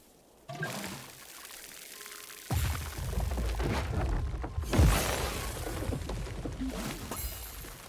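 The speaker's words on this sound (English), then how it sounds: "Time to water all our crops." Crops being watered in the video game Grow: Song of the Evertree, with game sound effects of pouring and splashing water in several bursts, one louder whooshing splash partway through, and no talking.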